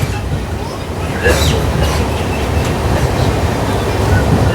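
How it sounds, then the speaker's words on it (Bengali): Padatik Express passenger train rolling on the rails near Mainaguri Road, a continuous loud rumbling drone from inside the carriage, with no voices. "ট্রেন ক্রস করছে ময়নাগুড়ি রোড।"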